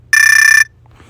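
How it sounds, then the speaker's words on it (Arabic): A street general-alarm effect: one short, loud electronic ringing burst, harsh and buzzing, that stops abruptly and leaves faint background noise. "انذار عام الشارع."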